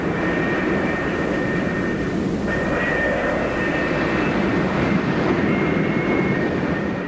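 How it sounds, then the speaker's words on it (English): A pair of F-4E Phantom jets taxiing on an aircraft carrier deck toward the catapult launch area, giving a loud, steady engine roar with a faint whine that holds throughout, with no voices. "another duo of Phantoms taxis towards the launch area"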